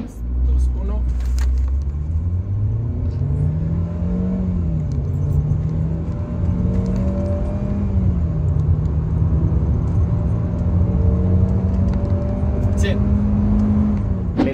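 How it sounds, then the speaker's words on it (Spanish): A 2023 Hyundai HB20 sedan engine pulling hard at full throttle from a standstill to 100 km/h: a loud, steady drone that rises in pitch through several gear changes, heard from inside the car. "la esencia de este ejercicio es que escuches cómo suena este motor cuando pisamos el acelerador a fondo"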